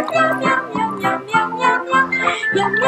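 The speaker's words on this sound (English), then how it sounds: "So they click on a cat paw. Meow. Meow. Meow. Sound effects." A cat meows repeatedly, about five evenly spaced, clear and close meows in quick succession.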